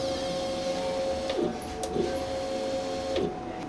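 A DTF printer runs a nozzle check: a steady mechanical whir with a high whine, broken by three sharp clicks and shuttle movements spaced about a second apart, close and alone.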